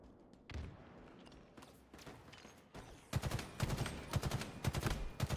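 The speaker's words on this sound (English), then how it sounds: "So there's all this time where these gunshots are going off and we're not shooting." Rapid gunfire from the video game Halo Infinite, with scattered single shots early on giving way to loud, dense bursts of automatic fire in the second half, no voices present.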